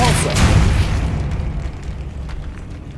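A spell cast in Hogwarts Legacy lands as a heavy boom with a sharp burst at the start. The blast then rolls off into a long rumbling decay of debris and reverb inside a decaying catacomb, with a voice present.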